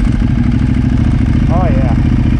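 A Ducati motorcycle engine runs at low revs, around 1500 to 2000 RPM, as it pulls away, a loud, close, steady throbbing drone with a brief higher warble partway through.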